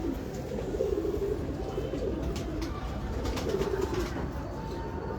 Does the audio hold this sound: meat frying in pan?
no